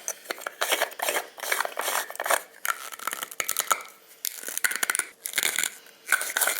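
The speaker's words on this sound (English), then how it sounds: "So essentially it grinds the pill up." Pills being ground into powder inside a handheld two-sided pill crusher, a dense run of gritty crunching and scraping strokes in uneven bursts, close and fairly loud with no voices.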